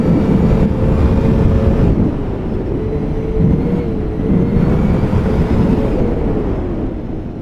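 A 2021 Yamaha Sidewinder SRX snowmobile engine roars steadily under throttle along a wooded trail, a loud close drone whose pitch wavers slightly as it pulls hard for several seconds.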